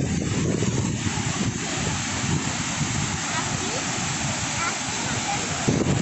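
Steady rushing roar of the El Salado waterfall in Puerto Rico, Caquetá, Colombia, continuous and fairly loud throughout, with some wind buffeting the microphone.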